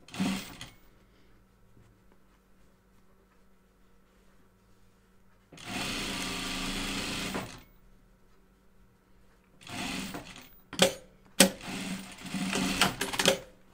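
Sewing machine stitching a fabric face mask, heard in a few separate bursts of running, including one steady stretch of about two seconds and several shorter choppy runs later, close by with quiet pauses between and no talking.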